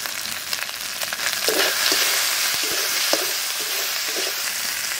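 A spice paste of ground dried chilli, cumin and salt fries in a pan, a dense crackling sizzle with scraping stirs, close and loud, no voices.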